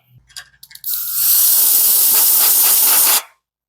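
Compressed air hisses loudly from an air hose while working on a Brat Fink rat rod tailgate, a few short clicks and bursts first, then a sustained harsh blast of about two seconds that cuts off sharply.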